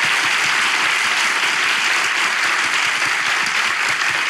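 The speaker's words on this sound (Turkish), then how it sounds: "ilişki testi alkışlarla sona eriyor" A studio audience at a Turkish relationship-test show applauds as the episode ends, giving a continuous, fairly loud patter of many hands that holds steady for a few seconds without talk.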